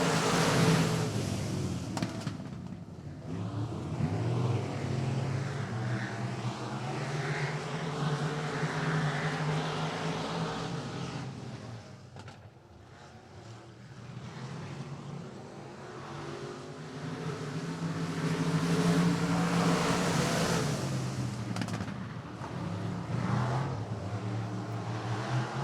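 Race cars roar around a dirt track at Texana Raceway Park during a night race, a thick, continuous engine din that swells and dips as the pack passes, loud and sustained throughout.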